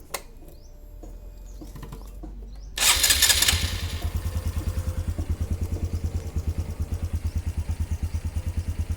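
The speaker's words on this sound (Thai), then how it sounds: "ทีนี้ก็ลอง สตาร์ทรถดูอาการ นะครับ" A Honda Wave 125 with LED lights and a remapped engine cranks and catches after a quiet stretch, then settles into a steady, close, rhythmic idle chug.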